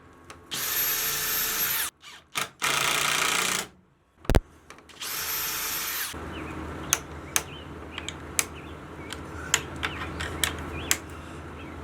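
A power drill drives small hex head lag screws while building a door latch for a DIY greenhouse, in several loud whirring bursts, followed by sharp clicks and taps of hardware.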